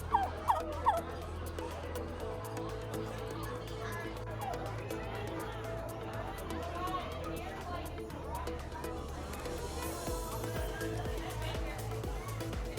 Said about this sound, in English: I honestly have never seen a turkey this up close,